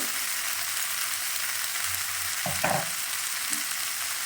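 A turmeric spice paste for koi fish curry with cauliflower and potato fries in a pan with a constant hissing sizzle, broken by a brief scrape or two of a spatula near the end.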